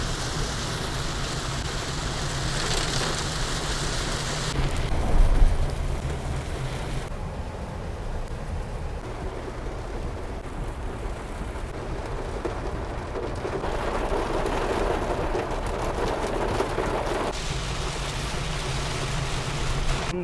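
Heavy monsoon downpour in Delhi near Nizamuddin railway station, a continuous roaring wash of rain that swells and eases in waves over twenty seconds, with no one talking.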